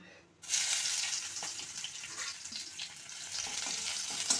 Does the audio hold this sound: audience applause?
no